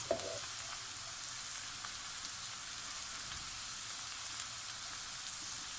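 Vegetables for borscht fry gently in a covered pot on low heat, giving a continuous, even sizzle and soft hiss with faint crackles and no voices.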